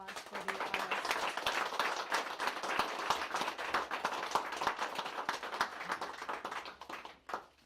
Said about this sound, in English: Let's give a warm round of applause for the